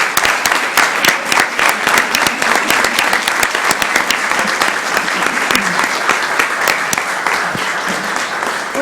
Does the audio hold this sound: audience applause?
yes